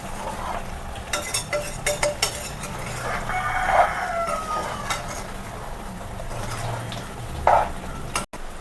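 Chicken curry stirred and sautéed in oil, a steady sizzle with scraping strokes of the spoon near the start, while a rooster crows in the background; no one speaks.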